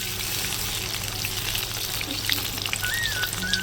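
Pieces of pointed gourd sizzle in hot oil, a dense, continuous frying hiss close up with faint occasional pops and no talking.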